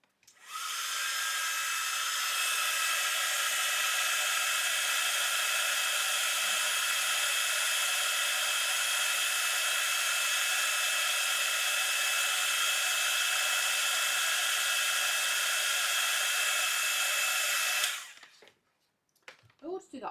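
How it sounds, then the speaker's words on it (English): Heat gun blasting air for heat embossing a sentiment on a wrapped chocolate gift card, a loud, steady hissing whoosh that holds evenly for about seventeen seconds before cutting off, followed by faint handling noise. "I'm just going to blast that with my heat gun for 2 seconds."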